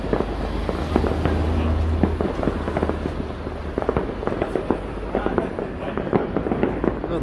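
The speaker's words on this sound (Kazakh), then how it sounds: "Салют басталды." A fireworks salute bursts over a city just after midnight, with rapid crackling pops and thuds scattered across several seconds, some sharp and close and others distant, over a continuous low rumble.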